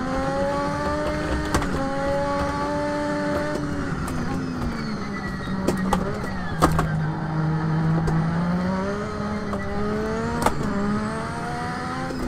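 A Lotus 98T Formula One car's turbocharged engine, running hot in the Assetto Corsa racing game, drones with a strong, steady harmonic whine that rises and dips through gear changes, punctuated by brief sharp pops.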